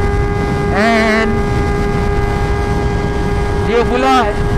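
Kawasaki ZX25R 250cc motorcycle engine droning steadily at high RPM while riding, with a constant tonal whine and wind noise; a voice speaks briefly twice over it.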